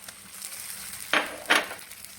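Sautéed small shallots drop into hot oil with a frying egg for a Kerala-style egg fry, producing two quick, bright sizzling bursts close together over a low background hiss.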